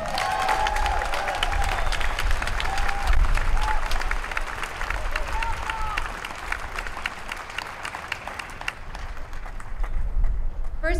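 A rally crowd at a Child Protection League event in Minnesota applauds steadily to welcome speaker Tamara, a dense sustained wash of clapping with some cheering, loud and close, lasting the whole stretch.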